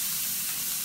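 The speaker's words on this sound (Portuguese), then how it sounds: "agora eu vou colocar a manteiguinha" Butter dropped into a hot pan for a pirarucu dish sizzles in a short, bright, steady hiss close by, with no talk.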